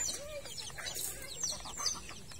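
Native farm chickens cluck and chirp at feeding time, several birds calling in short overlapping bursts at moderate distance, with no talk.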